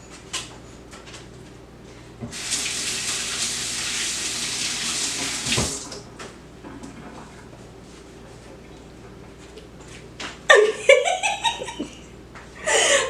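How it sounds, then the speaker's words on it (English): A kitchen tap runs steadily for a few seconds while hands are washed underneath, then shuts off. Light clatter and laughing, giggling voices follow. "I'm going to clean this up and clean my hands real quick"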